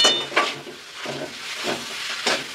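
Taro pieces stirred with spices in a pan for a hilsa fish head curry, a soft sizzle broken by a few rhythmic scraping strokes of a spatula, close and moderately quiet.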